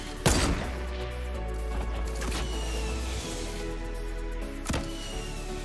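Fortnite gunfire cracks out in a few loud, sharp reports, one near the start and another a few seconds later, over a constant dense bed of game noise.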